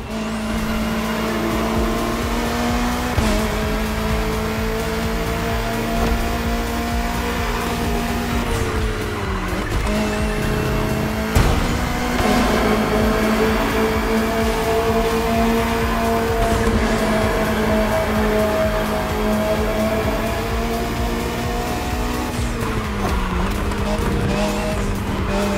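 Race cars including a Ferrari 488 GT3, McLaren Senna GTR, Bugatti Bolide and Lamborghini Aesthetica roar around a track in The Crew Motorfest, engines droning loud and steady with shifting pitch, gear changes and tire squeal throughout.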